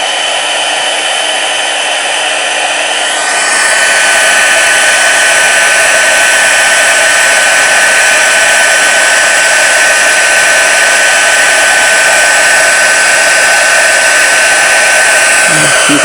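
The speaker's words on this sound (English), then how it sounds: "I'm going to turn the heat tool on. It'll be a little bit loud." A heat tool for melting embossing powder on a silver embossed card switches on and blows with a loud, steady whooshing roar that continues unbroken close by, with no talking.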